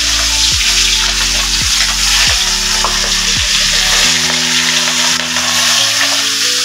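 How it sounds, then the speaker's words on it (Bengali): Rohu fish frying in hot oil in a wok, a steady loud sizzle running throughout, with a low droning hum underneath and some clinks from stirring. "কড়াইয়ে দিয়ে দিচ্ছি তেল, নিচ্ছি মাছগুলোকে"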